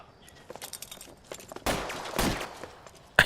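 Gunfire from the video game LA Noire: a burst of shots at mid-distance after scattered footstep-like ticks, with a heavier volley around the middle of the clip and a sharp crack right at the end, no talking.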